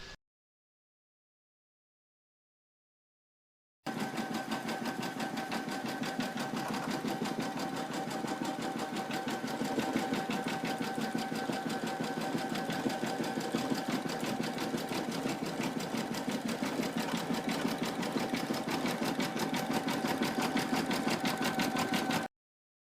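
Sewing machine running a steady, fast continuous stitch while sewing a zipper-top glasses case, a close, even mechanical whir that starts after a few seconds of silence and holds without pause or talk.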